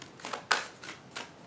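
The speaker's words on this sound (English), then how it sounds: "Alright, so we shuffle the cards" Tarot cards being shuffled by hand in quick papery riffles, one sharper burst among several softer flutters, close and quiet with no talking.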